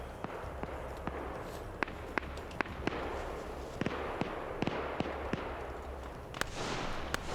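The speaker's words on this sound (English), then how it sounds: "We hear those gunshots now, so everything just converging in." Gunfire in a video game, a scattered series of sharp shots near and far at irregular intervals, set against a steady rumbling ambience with no talk.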